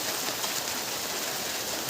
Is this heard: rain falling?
yes